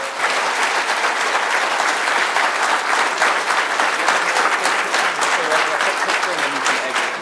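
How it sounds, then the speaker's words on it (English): An audience at a Florida State University sports analytics summit gives a loud, full round of applause, a continuous wash of many hands clapping that carries steadily through the whole stretch. "please, let's give them a round of applause and thank them for coming today"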